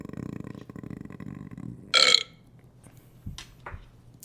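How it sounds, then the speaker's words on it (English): A single loud burp about two seconds in, short and throaty, followed by quieter vocal sounds and low room noise. "I'm going to burp."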